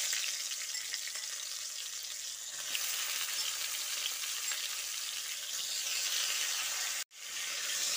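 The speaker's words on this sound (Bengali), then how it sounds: "এবার ডাঁটা ও আলুটা দিয়ে খুব ভালো করে ভেজে নিতে হবে" Marinated potatoes and drumstick pieces fry in hot oil with dried chilli and bay leaf, a steady dense sizzle running throughout, briefly cutting out near the end before resuming.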